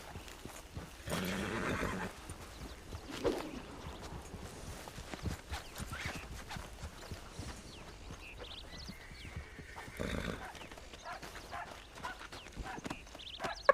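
A horse in a video game whinnies and its hooves clop over a low ambient backdrop, fairly faint, with a couple of louder bursts and no talking.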